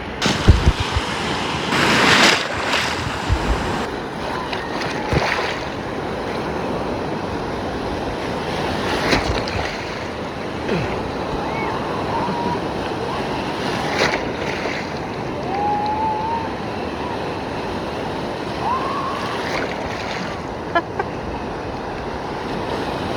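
Stormy sea at Anapa on the Black Sea, waves rolling and crashing continuously with heavy wind buffeting the microphone, a few louder surges and faint distant voices.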